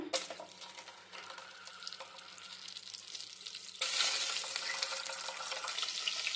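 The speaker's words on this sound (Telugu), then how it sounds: "ఇలా అన్ని ఎగ్స్ని అయితే వేసుకొని ఇలా కొంచెం సేపు ఫ్రై చేసుకోవాలి" Boiled eggs, dusted with chilli powder and salt, fry in oil in a pan for egg biryani. A steady hiss turns suddenly louder and harsher partway through and keeps sizzling at that level.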